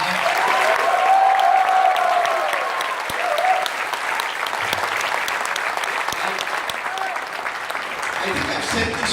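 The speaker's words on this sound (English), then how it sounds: "I don't think we've given him an applause loud enough." Conference audience at an ICAI event with Anil Kumble applauds loudly and steadily for about nine seconds, a dense wash of clapping with a faint tonal hum and scattered voices mixed in.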